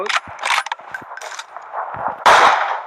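AMR rifle fire in a video game, heavy mechanical clacks of the bolt and reload gear followed by a sharp, loud blast near the end, close and dry.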